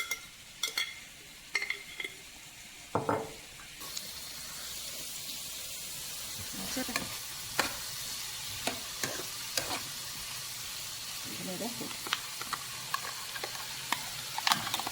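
Ginger paste sizzles and fries in a pan while a spoon clanks and scrapes at irregular intervals. The frying noise swells louder in the second half.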